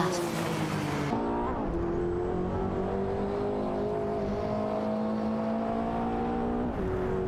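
Race car engines from a racing video game, a Ferrari F40 Competizione and Porsche 961 LM, droning steadily with rising pitch as they accelerate, a gear shift early on, under a voice talking.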